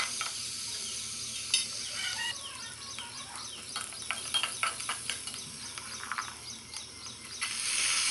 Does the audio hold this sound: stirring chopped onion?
yes